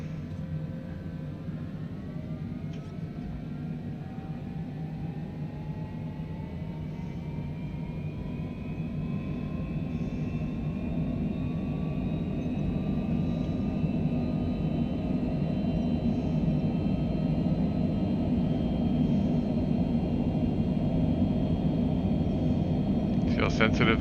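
A simulated light aircraft engine in Microsoft Flight Simulator drones steadily under small throttle adjustments, with faint whining tones slowly rising in pitch and a low rumble swelling slightly over time.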